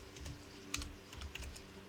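Typing Python code on a computer keyboard: a quick, close run of light key clicks with a couple of sharper taps, fairly quiet, with no one talking.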